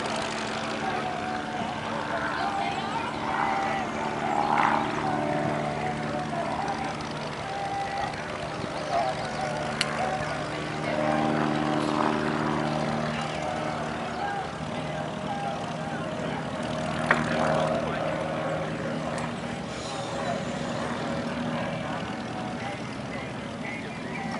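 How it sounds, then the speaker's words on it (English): Three propeller airplanes fly overhead together at a museum flying display, a continuous rumbling drone that swells and fades slightly, with outdoor crowd noise in the background. "the opportunity to shoot 3 such airplanes flying simultaneously"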